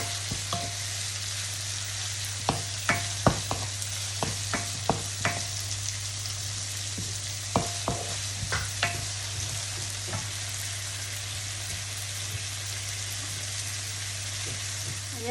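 Onion, garlic and chili sauté in a pan with a steady soft sizzle and occasional sharp taps of a utensil stirring, all fairly quiet over a constant low hum.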